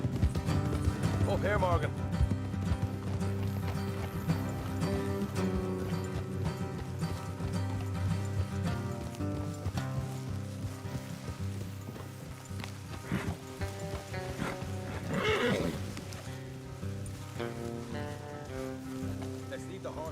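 Horses clip-clopping at a steady gallop along a road in Red Dead Redemption 2, rhythmic hoofbeats running throughout under a musical score and character dialogue.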